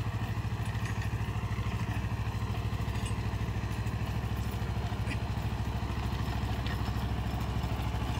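A tractor pulling a 5.25 foot rotavator through grass runs continuously, a loud, steady, close mechanical chug with a rapid even pulse and faint clatter over the top.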